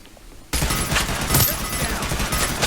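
Turret gunfire in the Realm Royale video game: a sudden burst of rapid, steady automatic fire that starts abruptly after a quiet moment and continues loudly to the end.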